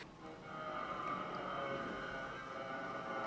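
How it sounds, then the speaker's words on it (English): Construction noise from an apartment complex forms a faint, steady, broadband rumble and whir with no clear individual impacts, heard at a distance. "Sorry about that noise. They're doing some construction in my complex."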